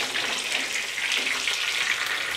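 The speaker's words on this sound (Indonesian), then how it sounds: "ini tak tutup, tempeku hampir aja gosong" Tempeh frying in a pan for a home-cooked lodeh meal, giving a steady close crackling sizzle that holds evenly throughout with no talking.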